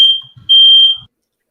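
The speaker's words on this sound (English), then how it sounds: "Whose alarm went off?" A smoke alarm sounds during a relaxed chat at home, giving two loud, piercing electronic beeps, a short chirp and then a longer tone, before it cuts to silence. A faint bump of movement falls between them.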